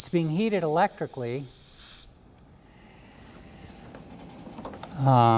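A small electrically heated steam engine gives a sharp high whistle for about two seconds, then a quiet low hiss, with a person speaking briefly before and after.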